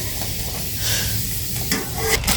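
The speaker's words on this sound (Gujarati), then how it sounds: "ફાઇનલી અત્યારે પૌવા તળવાનું ચાલુ થઈ ગયું છે" Corn poha flakes fry in hot oil, a loud continuous sizzle and hiss with stirring scrapes and a couple of sharp utensil knocks near the end, no speech.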